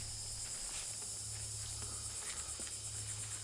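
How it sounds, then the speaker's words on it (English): Cicadas sing steadily in a lush, moss-draped forest under a tall canopy on Cumberland Island, a continuous high buzzing drone with a low hum beneath and faint scattered rustles, no voices. "The singing cicadas, tall canopy, lush forests with drooping moss drew me in."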